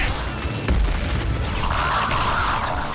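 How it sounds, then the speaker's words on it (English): A Colossus siege pulse cannon fires in Mass Effect 2, a deep booming blast followed by a rumbling, crackling energy surge with sharp transient pops. "we're gonna have to deal with its, not only a siege pulse cannon, but deal with its, mass accelerator machine gun"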